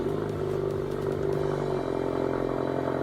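A Pontiac Solstice sports car in the Driving Empire video game starting up, a steady rumbling engine with harmonic drone and some clatter, continuous and close for about three seconds with no talk.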